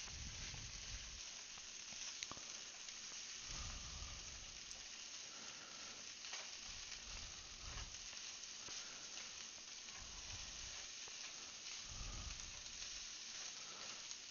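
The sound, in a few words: fried rice sizzling in pan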